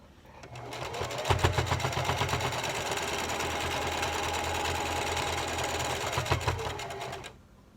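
A sewing machine stitches fabric for a face mask in one continuous run, its fast mechanical chatter starting up, holding a steady close rhythm for several seconds, then stopping abruptly.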